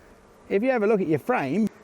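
Bees at a Nuplas plastic beehive used in commercial beekeeping make two short bursts of close, loud buzzing that wavers in pitch, separated by a brief pause.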